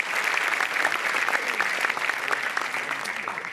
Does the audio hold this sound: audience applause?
yes